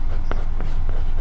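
Pen writing out a math problem on paper, soft continuous scratching with a few brief sharper strokes, close and steady over a low background hum.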